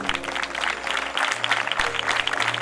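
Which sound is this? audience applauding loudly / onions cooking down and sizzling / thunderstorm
audience applauding loudly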